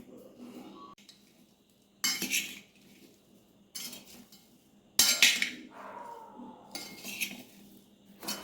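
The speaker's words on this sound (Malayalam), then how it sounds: "എന്നിട്ട് ഇത് നന്നായിട്ടൊന്ന് ഇളക്കി യോജിപ്പിച്ച് വയ്ക്കാം" Gooseberries mixed with salt and asafoetida in a bowl for nellikka pickle, stirred with a spoon: a few loud, separate clinks and scrapes of utensil on the bowl with quiet pauses between them.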